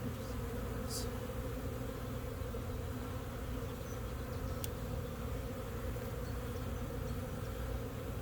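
Honeybees buzz in a steady, dense drone that fills the whole stretch during a hive inspection, with an occasional brief tick or click and no voices.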